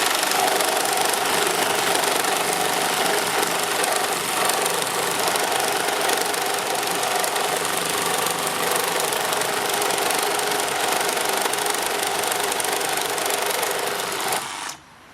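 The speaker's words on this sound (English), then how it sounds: "These two full speed, flat out, going through rebar, not a problem." A Makita 40V second-generation reciprocating saw cutting through rebar at full speed, a loud, steady buzzing drone that holds evenly for about fourteen seconds before cutting off near the end.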